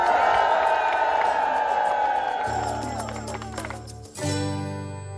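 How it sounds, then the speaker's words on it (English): A group at a board of directors meeting cheers and whoops for security staff, a loud, lively burst that fades out partway, followed by a low hum and a brief final swell. "1, 2, 3, cheer for security!"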